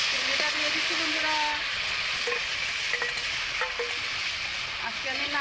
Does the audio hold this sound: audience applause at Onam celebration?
no